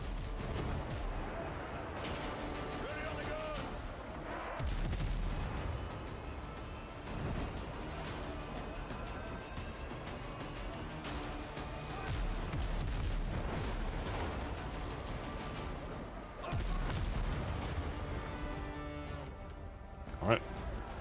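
Cannon fire from ships in the Windrose naval video game, heavy booms repeating throughout over a dense, steady roar of battle noise, with a voice talking over it.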